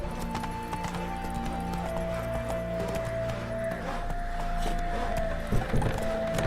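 Roach, a horse in the video game The Witcher 3: Wild Hunt, gallops with rhythmic clip-clop hoofbeats over a droning background score. The hooves are steady and fairly close, with a brief louder thump near the end.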